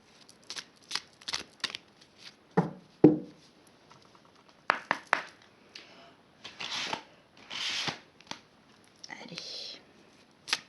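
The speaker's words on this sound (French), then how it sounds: "je vais piger 3 cartes et tu vas choisir" Oracle cards from a Victoria Frances deck are shuffled and drawn, giving close, crisp riffling bursts and soft slaps in uneven clusters with brief pauses, and a faint voice murmurs now and then.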